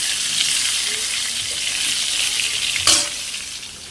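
Pointed gourd fries in oil in a pan on a wood-fired clay stove, giving a steady, bright sizzle with a brief louder crackle near the end.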